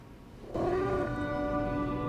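Cat meowing in the video game Lies of P, a single drawn-out, tonal meow that starts abruptly and holds steady for over a second, fairly loud against a quiet game background.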